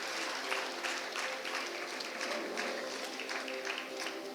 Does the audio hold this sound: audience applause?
yes